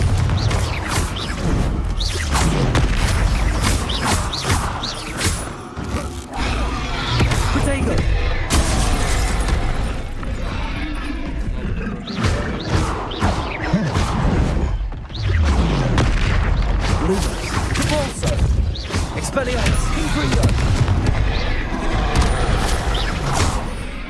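Confringo blasting spells explode over and over in Hogwarts Legacy spell combat, a dense run of loud, booming bursts and crackling impacts layered with busy battle noise for the whole stretch.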